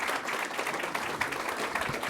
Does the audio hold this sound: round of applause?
yes